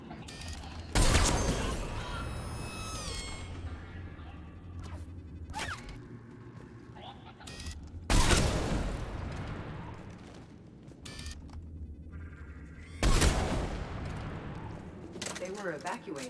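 Gunfire and sniper shots in Mass Effect combat: three sharp, loud cracks spaced several seconds apart stand out over a bed of lighter scattered shots and clatter.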